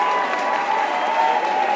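A large crowd at an ultimate frisbee world championship open final cheers and applauds in a sustained, loud roar, close and continuous with no distinct voices.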